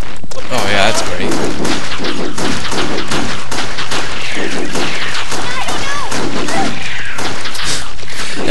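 Continuous, loud gunfire from the video game Resident Evil: Darkside Chronicles, with dense overlapping shots and crashes throughout and voices speaking over the action.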